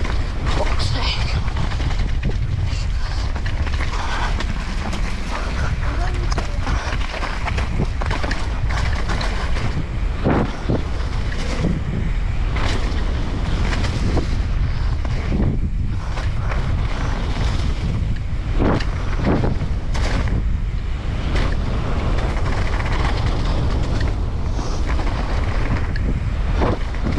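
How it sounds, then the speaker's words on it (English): Strong gusting wind batters the microphone on a windy day at the gap, a constant loud roar with sharper buffeting bursts throughout, while a voice talks under the noise. "it is super windy, so I don't know if you can hear me"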